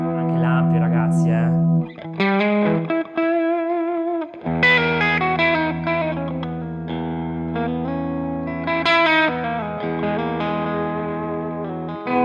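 Gibson Les Paul Junior electric guitar through an amp plays driven chords and riffs with effects, stopping briefly between phrases before sustaining, loud and close.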